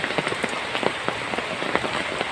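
Heavy rain pours down steadily during a flood, a dense continuous hiss of drops striking surfaces with scattered sharper patters, fairly close and alone with no voices.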